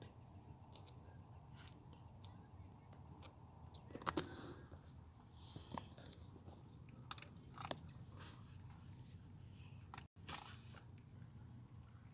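A pet dog munches crunchy kibble in a quiet van, with faint irregular crunches and bites scattered over a low background hum and no talking.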